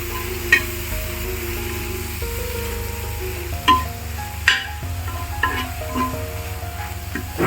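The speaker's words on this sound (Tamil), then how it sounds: "இப்போ வந்து இதை வந்து நல்லா கிளறி விட்டுக்கோங்க" Chopped cabbage stirred into egg frying in a pan for egg kothu parotta, a steady sizzle under repeated scraping and stirring strokes with a few sharper clanks of the utensil against the pan.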